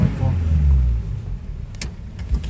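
A Suzuki Gypsy 4x4 drives offroad out of a quarry, its engine a steady low rumble close by, with rattling and knocks from the bumpy track over the final second.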